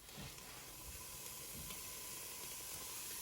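Steam hisses steadily as cooked pasta for a one-pot goulash is drained in a kitchen, a continuous broadband rush with faint low thumps of water underneath.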